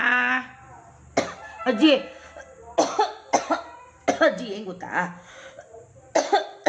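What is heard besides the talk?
coughing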